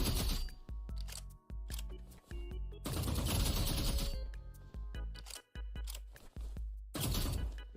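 Rapid weapon fire in the Roblox Rivals video game, with dense bursts of sharp shots following one another quickly, separated by brief pauses, loud and close with no talking.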